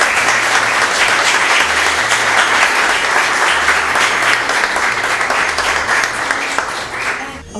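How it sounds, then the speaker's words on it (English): An audience at a panel discussion about the Philadelphia art scene for emerging artists gives the panelists loud, sustained applause, with a low musical tone faintly underneath throughout. "please join me in giving them a round of applause"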